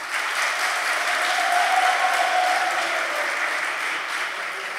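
Steady, full applause from a talk audience at a Pint of Science event in Toledo, voting for a song choice, a thick continuous clapping texture at constant level with a faint voice beneath it.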